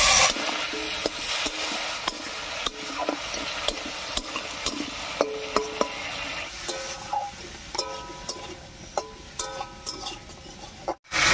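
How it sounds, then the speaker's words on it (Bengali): A spice paste thinned with water is stirred and fried in a pan for a fish curry, with repeated scraping spoon strokes over a soft, steady sizzle and no talking. "এবারে মশলা বাটা জল দিয়ে কষিয়ে নেব।"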